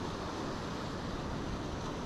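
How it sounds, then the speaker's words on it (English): Surf breaking on a shore in rough winter weather with a southwest wind gives a continuous, dense roar of waves and wind, steady and fairly loud with no distinct breaks and no voices. "A nice surf running and a nice bit of colour in the water."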